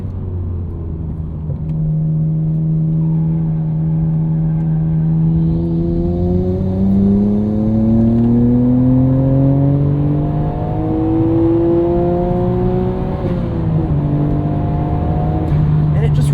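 A 1999 Nissan Skyline R34 GT-R engine revs high toward 8,000 RPM, a loud, close, rising mechanical howl that climbs steadily, dips briefly, then picks up again under a continuous rumble.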